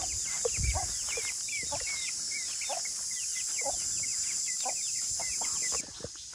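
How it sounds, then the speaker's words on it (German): Chickens clucking and scurrying about outdoors on the grounds of a war museum: a stream of short, chirpy clucks and calls over a constant high insect-like hiss, moderately close and without speech. "Hühner rennen hier auch rum."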